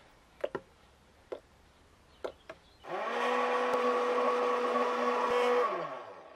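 Electric mixer motor churning thick handmade soap batter, starting after a few sharp taps and running steadily for about three seconds, loud and close, with no speech.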